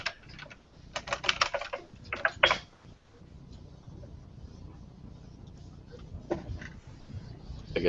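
Quick bursts of computer keyboard typing clatter up close for the first few seconds, then come back briefly near the end over a low background hum.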